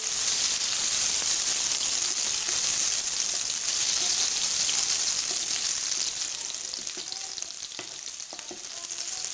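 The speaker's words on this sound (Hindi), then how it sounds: "2 से 3 अदद कड़ी पत्ता हमने शामिल कर लिया और इसको हम भून लेंगे।" A few curry leaves sizzle and crackle in hot oil for a dahi tadka, a steady bright frying hiss with small pops, close and loud.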